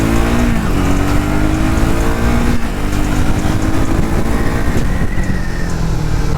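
A Triumph Speed 400 single-cylinder motorcycle accelerating on city streets, its loud, steady engine note running continuously up close, with the pitch climbing and then levelling off. No one speaks.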